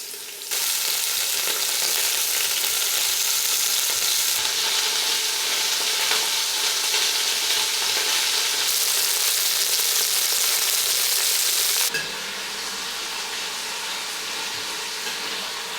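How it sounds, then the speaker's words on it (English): Beef chunks browning a few at a time in an uncrowded pan for beef bourguignon, a loud, dense, continuous sizzle that drops to a quieter hiss near the end, with no voices. "I'm putting a few bits in at the time so I don't overcrowd the pan and I get some nice caramelisation on the beef."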